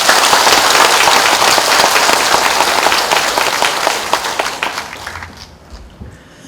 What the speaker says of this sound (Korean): 우리 이 주지 스님을 향해서 큰 박수 한번 보내주세요